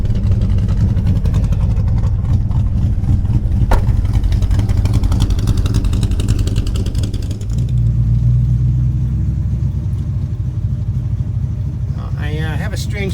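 A Chevy C10 V8 with a hefty camshaft and a restrictive exhaust idles nearby in a steady, loping rumble that goes on throughout, with a brief voice near the end.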